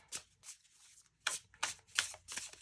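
Tarot cards being shuffled by hand: a quick burst of riffling, a pause, then several more crisp papery bursts in an irregular rhythm, close and fairly quiet with no talking.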